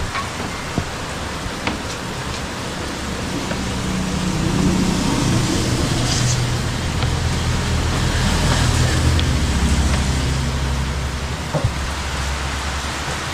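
Steady rain falling on a construction site for a house, a dense, loud wash of drops with low rumbling underneath and a few sharp taps, continuous throughout with no talk.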